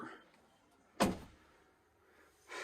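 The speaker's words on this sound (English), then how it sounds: "Open the door." The door of a 2023 Airstream Interstate 19 van opens with one sharp mechanical clunk, followed by a quieter rumbling slide, then near silence and a second softer burst of sound.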